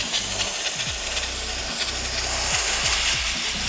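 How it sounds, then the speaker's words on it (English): A steam cleaner hisses loudly and continuously, blasting steam into crevices and jambs, a broad airy rush with small pulsing thumps underneath; no talking. "So to demonstrate how effective a steam cleaning is,"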